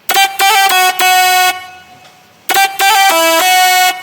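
Dry synth lead stacked with an Arabic-style lead in a remix, playing loud, bright sustained melodic phrases in two bursts with a short gap between them, alone without talk.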